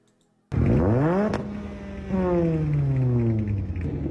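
A car engine revs up sharply from silence, climbing in pitch, dropping back, then rising again in a long, loud roar.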